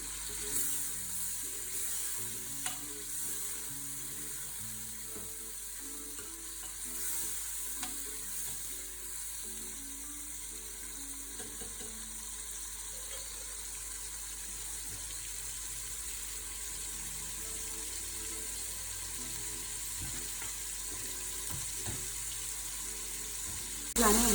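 Chopped tomatoes fry and get stirred in a pan with turnip and spinach, a gentle continuous sizzle with occasional soft scrapes and clicks, steady and fairly quiet throughout.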